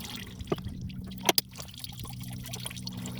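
Coolant trickles and drips from a 2004 Nissan Sentra 1.8 into a drain pan during water pump replacement, a faint low stream with a few sharper splashes and clinks near the middle, no voices.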